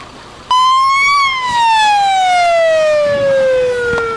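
An ambulance siren at a fire emergency readiness exercise in a wooded green area starts abruptly and loud, then a single long wail slowly falls in pitch, close and sustained with no talk.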